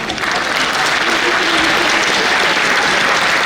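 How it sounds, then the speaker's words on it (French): Audience applause at a chess championship closing ceremony, loud, dense clapping that continues steadily the whole time. "On peut les applaudir."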